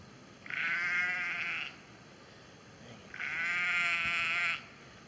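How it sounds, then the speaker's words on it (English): Sheep bleat for their lambs, two long loud wavering calls separated by a pause, close by with no talk. "the sheep are hollering for babies"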